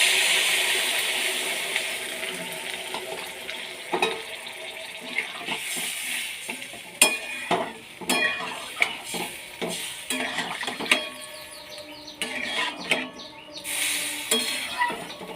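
Water poured onto fried-down spice paste in a pan, sizzling steadily with repeated stirring and clinks of utensil against metal throughout, loud and close with no voices.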